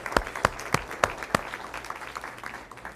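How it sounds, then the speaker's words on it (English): A small audience at a live business speech in Austin claps a handful of distinct, fairly quiet claps in an even rhythm that quickly thins out, leaving faint room noise. "Give yourself a round of applause."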